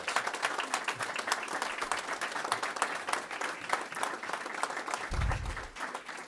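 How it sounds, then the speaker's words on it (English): An audience applauds at a groundbreaking ceremony in Buffalo, New York, with steady, dense clapping throughout and a low thump partway through. "Let's give them another round of applause."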